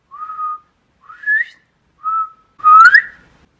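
A person whistles an imitation of a quail call: four short whistled phrases, the first and third flat, the second rising, the last louder and more complex, each separated by a brief pause.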